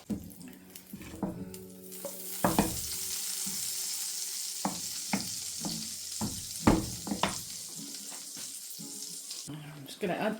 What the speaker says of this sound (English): I'm just going to add the lamb into the hot pan with the butter and oil, and we're going to brown it.